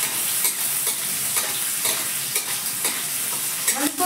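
Chopped onions stir-frying on a high flame for restaurant-style chowmein: a loud, continuous hissing sizzle with repeated scraping and clacking strokes as the onions are tossed in the pan.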